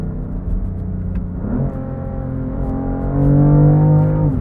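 A BMW F80 M3 CS in M2 mode accelerates, its engine note a deep close rumble that climbs steadily in pitch and grows louder toward the end, heard alone without talk.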